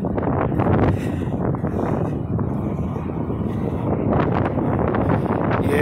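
Strong wind buffets the microphone outdoors at a truck loading dock, a steady, loud roaring rumble with gusty swells filling the whole stretch, no other sound standing out.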